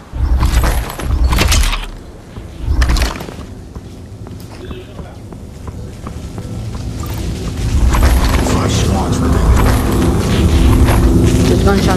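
Gunshots in the VR battle game Population One, a few sharp booming blasts early on followed by softer distant fire and game ambience, with players talking throughout.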